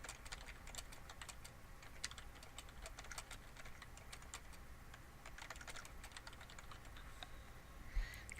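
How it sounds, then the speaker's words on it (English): Rapid typing on a computer keyboard while playing Guns of Glory, a steady, quiet patter of light clicking keystrokes that runs throughout with no voices. "as you just saw me typing"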